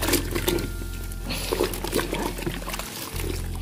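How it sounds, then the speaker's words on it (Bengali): A blanket is pushed into a tub of Dettol water, making a close, continuous wet swishing and pouring sound with soft sloshes, and no talking. "ডেটল জলের মধ্যে এটা দিয়ে দিচ্ছি।"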